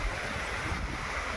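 Flowing water from a stream at Kalu Waterfall on a monsoon trek, a steady broadband rush that stays loud and continuous throughout with no voices.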